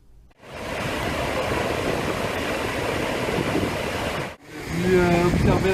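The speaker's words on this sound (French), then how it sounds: "Observer la cascade là." Steady, dense rushing water of a waterfall roars close by without pause, then cuts briefly before a voice speaks over continuing water noise.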